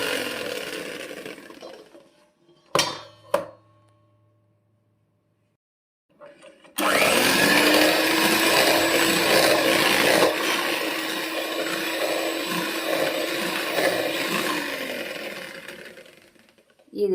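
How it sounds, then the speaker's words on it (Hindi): Whipped cream beaten in a bowl for a chocolate strawberry cake, a steady loud whirring churn running for about ten seconds after two brief knocks, easing slightly toward the end. "एक बोल लेंगे, उसमें व्हिप्ड क्रीम डालेंगे और उसे इस तरह से व्हिस्क करेंगे।"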